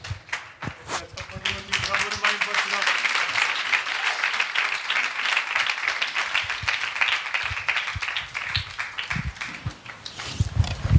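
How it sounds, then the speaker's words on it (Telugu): A church audience at a Telugu Christian gospel gathering applauds, dense clapping running steadily for several seconds and lasting through most of the stretch, with brief voice bits near the start. "గట్టిగా చప్పట్లు కొట్టం"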